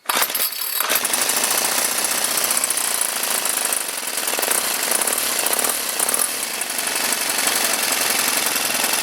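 A Ryobi 990R small engine with ticking valves runs steadily up close with a rapid, dense mechanical clatter and ticking throughout, loud and continuous with no voices.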